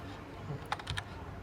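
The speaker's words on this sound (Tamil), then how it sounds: "இதை நம்ம டைப் பண்ணணும்." Someone types a verification code on a computer keyboard for an online voter list name check: a short, quiet burst of about four quick key clicks over faint background noise.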